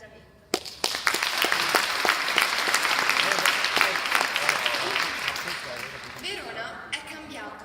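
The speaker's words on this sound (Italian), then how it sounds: "un applauso di incoraggiamento" A sharp clap kicks off a burst of encouraging audience applause at a forum in Verona, building into dense clapping that gradually thins toward the end.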